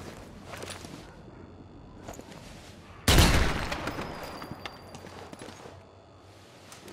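Gunfire in the zombie shooter Zombie Army 4, a sudden loud burst of shots midway that decays into rumbling echo, with quieter clatter and footsteps before and after.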